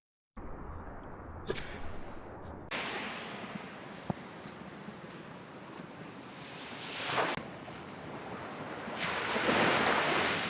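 Ocean surf rolls in at Melasti Beach in Indonesia, a broad steady roar of waves with swelling surges and wind buffeting the microphone, growing louder toward the end.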